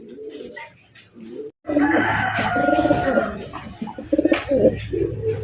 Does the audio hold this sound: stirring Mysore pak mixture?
no